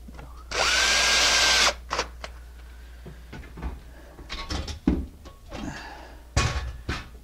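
A power drill drives drywall screws into a mounting piece for a rough-in valve: one loud, steady whirring burst up close, followed by scattered knocks, clatter and handling thumps.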